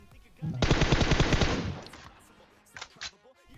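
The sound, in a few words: gunfire in a shooter video game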